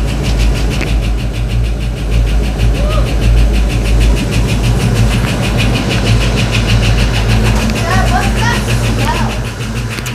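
A 1989 Ford Mustang with a 5.0 V8 runs loudly and close up, a rough steady idle with a deep rumble and some valve-train ticking, while people talk over it.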